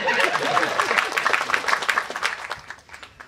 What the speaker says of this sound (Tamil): நீங்களே தயவு செஞ்சு அதில் கைத்தட்டிடுங்க.